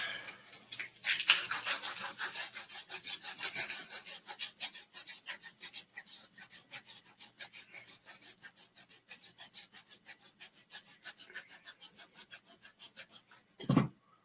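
A piece is sanded at the tip by hand with rapid, rhythmic rasping strokes that are close and fairly loud, then ends in a sharp knock.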